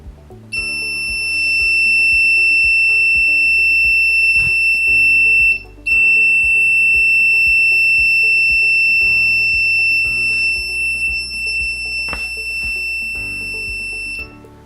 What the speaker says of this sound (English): the LED turns on and then the buzzer starts beeping